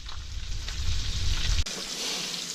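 Trout frying in a pan, a loud continuous sizzle and crackle up close with a dense low rumble that cuts off abruptly partway, leaving a softer steady hiss.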